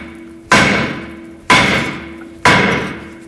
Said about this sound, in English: I'm going to take a bigger hammer, tap from the front side this time